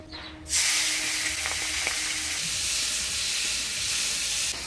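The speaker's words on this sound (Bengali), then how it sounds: "এবার এই তেলের মধ্যে চিংড়ি মাছগুলো ভেজে নিব।" Prawns hit hot oil and set off a loud, steady sizzle that holds evenly with a broad hiss, close up and with no talk.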